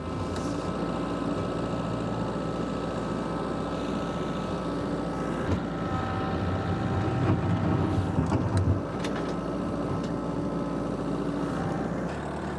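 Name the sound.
Kubota LX3310 tractor four-cylinder engine running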